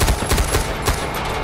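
Rapid gunfire from the video game Far Cry 4, with loud close bursts of automatic shots that repeat in quick clusters over a steady rumble.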